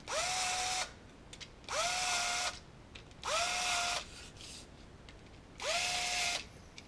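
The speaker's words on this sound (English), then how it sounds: "but I am going to deburr it" Four bursts of a power drill whining as it deburrs an aluminum aircraft spar for an RV-7 elevator trim tab, each burst about a second long with a rising pitch at start, separated by short pauses, close and loud with no talk.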